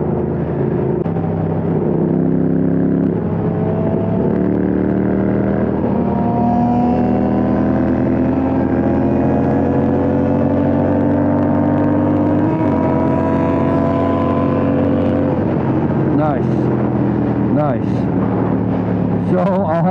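A Honda CBR600 and a Yamaha R6 race at full throttle, their high-revving engines screaming loudly throughout with rising and falling pitch through gear changes, close and continuous.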